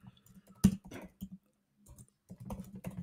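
Quick, uneven keystrokes on a computer keyboard entering a chatbot prompt, close-up clicking in short clusters with a pause midway and no talk.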